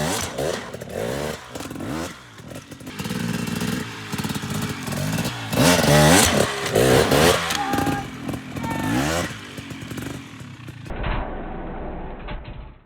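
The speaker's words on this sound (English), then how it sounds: "giving it that burst of throttle with the pop of the clutch to get the rear wheel to jump up the log" Dirt bike engine revving in sharp throttle bursts with clutch pops as the rear wheel jumps up over a log on a trail, loud and close with varying pitch, ending in a quieter idle.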